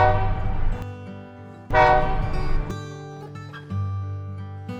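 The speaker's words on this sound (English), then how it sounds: "Metro train," A metro train's horn sounds in repeated loud blasts of varying length, close and clear over rolling rail rumble, with no voices.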